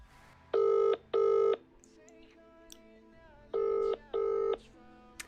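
Ringback tone of an outgoing phone call waiting for an answer: two pairs of loud, steady double rings separated by a pause, with faint background murmur between them.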